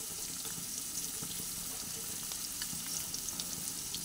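Potatoes fry in oil with ginger and coriander powder for a cucumber curry, giving a steady, even sizzle and hiss with occasional faint pops throughout, heard alone without talk.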